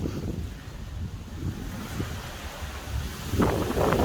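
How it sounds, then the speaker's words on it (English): Strong wind buffets the microphone in uneven low gusts outdoors during a Traxxas TRX-4 RC crawler run, rising louder toward the end, with no one speaking. "Very windy today."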